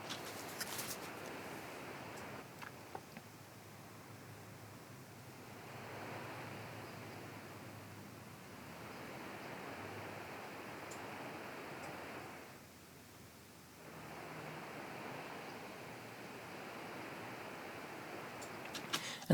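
A waterfall and a river are recorded with a spatial microphone, giving a steady faint broadband rush whose intensity shifts gently and dips briefly as the pickup moves.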